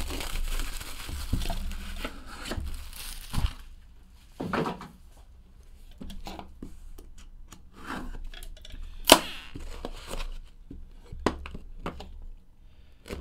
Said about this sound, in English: we'll bust this box open.